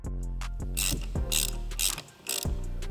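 Close ratchet tightening a ground bolt during a Tesla Cybertruck winch bumper install: rapid pawl clicks in several bursts between strokes, loud and alone.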